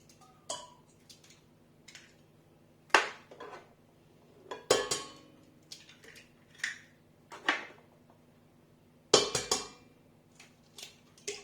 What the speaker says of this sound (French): On commence par casser les œufs dans un saladier.